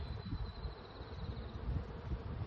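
Honey bees buzz inside an open hive during a spring inspection, a continuous low drone with a thin steady hum, moderate and close, no voices.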